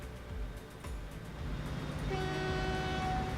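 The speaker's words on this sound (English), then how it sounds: "Beautiful, beautiful train." A Class 47 locomotive in the Train Fever game rumbles along steadily and gives a sustained horn blast partway through, with the continuous rolling drone of the wagons underneath.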